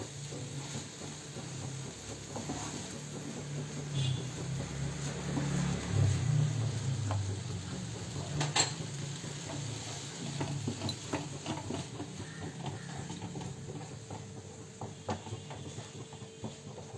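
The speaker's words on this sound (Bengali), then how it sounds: "আর পুরোটা শুকিয়ে না ডো হওয়া পর্যন্ত আমি নাড়তে থাকবো" A spoon stirs a carrot and semolina mixture in a pan as it dries toward a dough. The scraping and soft shuffling strokes are quiet and continuous, over a faint hiss.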